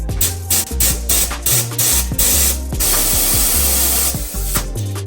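A spray gun running on compressed air sprays FluidFilm undercoating in loud, close hissing bursts, several short blasts and then a longer continuous spray, with air-tool clatter between them and no talk.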